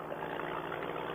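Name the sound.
paramotor engine revving from a touchy throttle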